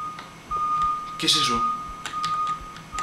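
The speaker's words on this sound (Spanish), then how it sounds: "¿Qué es esa alarma, tío?" Electronic alarm beeping in the horror video game Mind's Eye, a steady high tone with short repeated blips over a quiet background, while someone speaks over it in surprise.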